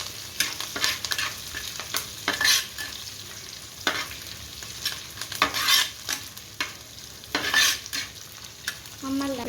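Masala with green chillies frying in a hot pan and being stirred, a steady sizzle under repeated scraping strokes of the spoon against the pan, close and loud with no talking.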